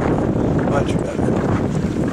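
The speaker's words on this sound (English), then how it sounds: "Sailing up close to the wind." A sailboat sailing close to the wind, heard as steady buffeting wind noise across the microphone with faint water wash, loud and continuous.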